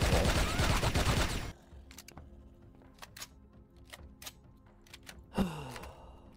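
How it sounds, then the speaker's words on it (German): Laser sniper rifle fire in the video game Empyrion: a dense burst of loud shots at first, then a few sharp, scattered reports and a final louder blast over a quieter background. "Genau, ein Laserscharfschützengewehr"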